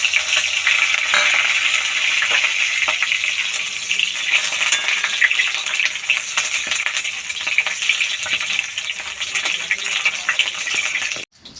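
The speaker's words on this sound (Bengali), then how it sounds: "পেঁয়াজ রসুনটা যখন হালকা ভাজা হয়ে যাবে" Onion and whole unpeeled garlic cloves frying in hot oil, a loud continuous crackling sizzle with scattered pops, ending in an abrupt clink near the close.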